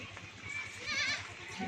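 A Rajanpuri goat at a goat farm gives a short, wavering bleat over a busy background of other animal noise and murmur, with a faint voice nearby.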